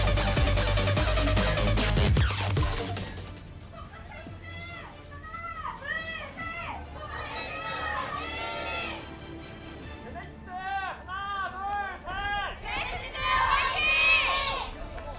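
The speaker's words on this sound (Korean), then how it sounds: "양팀을 응원하는 우렁찬 함성 소리와 함께 시작합니다." A large arena crowd roars and cheers for both teams at the start of a Korean Overwatch esports match, a dense wash of voices with shouts and whoops rising and falling, loud and near with a burst of noise at the start.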